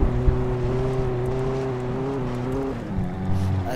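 Car engine driving in the video game Alan Wake, a droning motor whose pitch holds steady then drops and shifts as the car is steered, continuous and moderately loud with a soft thump near the start.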